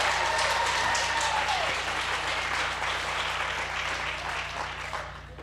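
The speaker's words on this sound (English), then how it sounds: "For that, can we clap hands for Minister?" Audience applause at a ministerial visit to the Sky City housing development, dense clapping filling the space and holding steady before thinning slightly toward the end, with a faint steady hum beneath.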